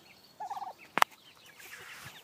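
A quiet mixed flock of hens and juvenile chickens gives a short warbling cluck, followed by a sharp double tap nearby and faint rustling afterward.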